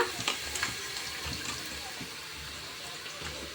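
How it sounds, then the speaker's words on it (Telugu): Water splashes and trickles while chicken feet are washed in a kitchen, a faint irregular pouring with small splashes and clatters throughout. "ఈ కాళ్ళని అయితే ఒకసారి శుభ్రంగా వాష్ చేసుకొని మళ్ళీ మంచినీళ్ళతో అయితే పోసుకొని వీటిలో వేసుకోవాలన్నమాట"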